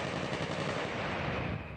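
Rapid, dense automatic gunfire rattles continuously during a shootout between a gang and police, loud and sustained with no pauses and no voices.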